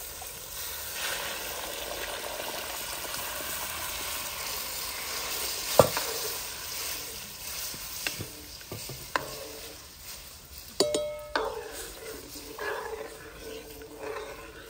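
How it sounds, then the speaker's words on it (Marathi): Tomato and green chili tempering sizzles in a pan as a spatula stirs it, with a moderate steady hiss broken by several sharp utensil scrapes and knocks. "टोमॅटो मिरची हे सर्व आपलं छानपैकी परतून झालेले आहे।"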